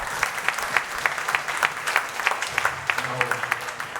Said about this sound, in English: Big round of applause for Melody